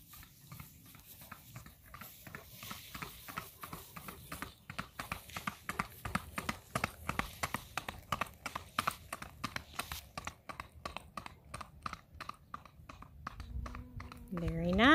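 A buckskin tobiano gelding walks over pavement, its hooves giving a steady, even clip-clop close by, with brief talk near the end.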